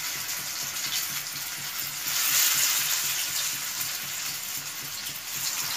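Lauki koftas, bottle-gourd dumplings, sizzle steadily in hot oil, a continuous crackling fry that swells louder for a moment midway and then settles.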